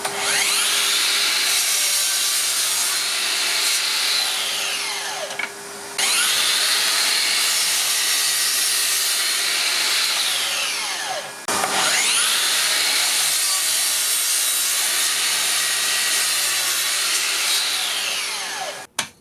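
A Makita DLS111 cordless mitre saw cuts through wood three times in a row, each pass a loud, sustained whining blade that rises and falls, with brief gaps between cuts and no one talking.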